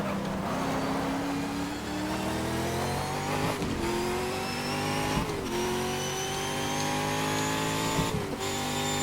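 Race car engine in GTR2 racing game bouncing off the first rev limiter, a loud continuous buzzing drone with harmonics that sag and recover in repeated cuts every second or so, close and steady with no talk.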